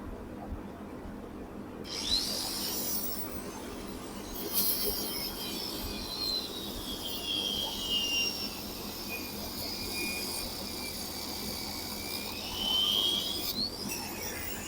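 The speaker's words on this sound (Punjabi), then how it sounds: "ਜਿਹੜਾ ਨਟ ਵਾ ਇਹਦਾ ਆ ਪਾਸਾ ਵੱਢ ਦੇਣਾ ਵਾ" A power tool cuts through a seized nut in a welding repair. It makes a continuous grinding whine with a rising and falling pitched scream, loud and close, with no talk.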